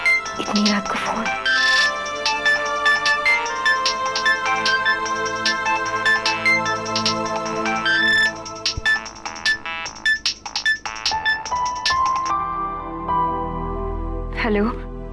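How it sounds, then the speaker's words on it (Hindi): A phone ringtone sounds late at night in a domestic scene, repeating as a musical melody throughout, mixed with voices and background music. "इतनी रात को फोन।"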